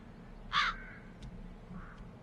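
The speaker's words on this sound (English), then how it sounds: "But first I'll deal with the crows." A single loud crow caw rings out in the fantasy adventure game The Dark Eye: Chains of Satinav, followed by a fainter, shorter caw over a quiet low background.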